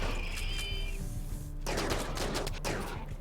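Gunfire from a RimWorld colony battle with Kenshi and zombie mods: a steady rattle of rapid shots from several guns, close and continuous, broken by a couple of heavier bursts.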